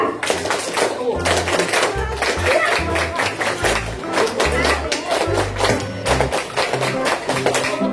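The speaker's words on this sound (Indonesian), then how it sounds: "Tepuk pramuka" Scouts from a special-needs school on a nature outing perform the Pramuka clap, a rhythmic patterned clapping sequence of sharp hand claps, close and loud, with voices chanting along and talking over it.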